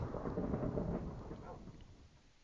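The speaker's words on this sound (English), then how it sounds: "Thunder." Rolling thunder in a Minecraft thunderstorm, a broad low rumble that swells in the first second and a half, then slowly fades out, heard alone with no talk over it.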